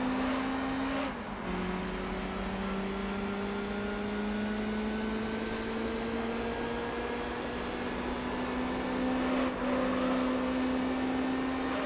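A car drifting in the PS2 racing game Gran Turismo 3, its engine holding a steady, loud, slowly rising whine with a brief dip in pitch near the start, continuous with no speech.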